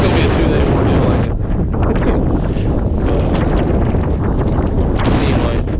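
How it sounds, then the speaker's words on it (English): Strong wind batters the microphone in an open pasture, a loud continuous roaring rumble with gusty surges that drowns out everything else. "I can't film much with this damn wind"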